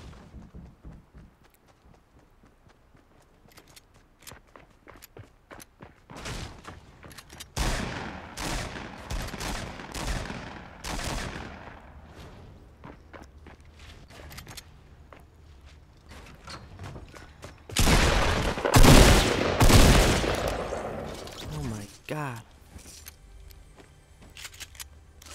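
Gunfire in the Fortnite battle royale video game, with scattered sharp shots early, a burst of dense rapid firing in the middle, and a louder cluster of heavy shots later, without talk.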